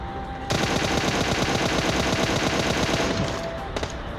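Rapid, sustained automatic gunfire from M416 and M762 assault rifles in the mobile battle-royale game PUBG Mobile, loud and continuous for about three seconds before stopping, followed by a couple of brief later shots.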